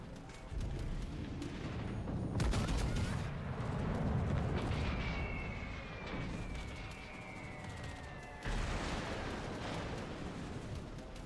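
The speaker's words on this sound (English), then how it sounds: "Airstrikes are so fun." Airstrikes land in the naval battle game World of Warships: Legends as a dense, continuous roar of booming explosions and rumbling blasts. A sustained whine is layered over the barrage, which stays loud throughout with no talk.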